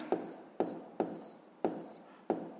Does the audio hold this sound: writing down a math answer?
yes